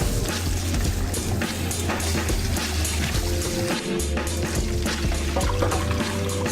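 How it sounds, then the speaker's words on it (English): Water runs steadily over sushi rice being rinsed, a continuous close pouring and splashing sound with no speech. "First of all, you're gonna rinse your rice."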